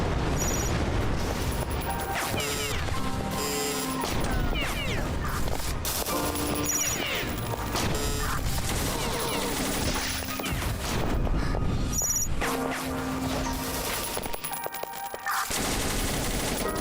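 Rapid machine gun bursts in a video game fill the stretch, with dense overlapping gunfire, booms and explosions in a loud, nearly continuous barrage and brief gaps between volleys.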